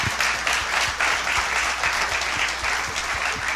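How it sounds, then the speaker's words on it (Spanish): A church congregation claps together in sustained, lively applause, the sound full and steady with crisp individual claps standing out close by. "Denle un aplauso al Señor."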